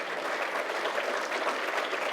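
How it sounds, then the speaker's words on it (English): A short burst of dense, steady audience applause for award finalists at an AI awards ceremony, filling the hall evenly with no talking. "I think give them all a big round of applause."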